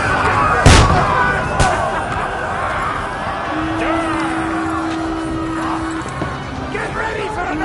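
Medieval battle gunfire in Kingdom Come: Deliverance II, with a sharp close blast and a second shot amid a noisy rumbling skirmish, shouting voices, and a sustained droning tone midway.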